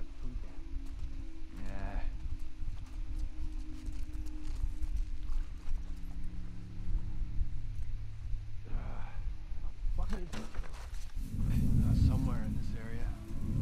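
Horse hooves clip-clop in a rhythmic, steady pattern through a video game scene set in Seattle, in The Last of Us Part II, mixed under ambient game sound and occasional voices.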